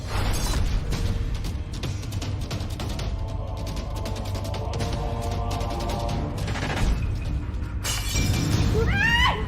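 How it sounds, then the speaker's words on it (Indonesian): Plate breaking while dishes are washed in a drama scene, a loud crash and shattering amid dense clattering noise and a tonal music bed, with a fresh burst of breakage near the end. "Baru disuruh cuci piring begitu aja sudah pecah!"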